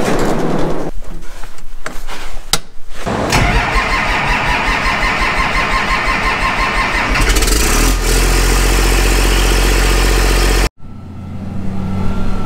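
A farm tractor engine cranks and catches, then settles into a loud, steady close-up rumble, which cuts off abruptly near the end before a quieter engine hum returns.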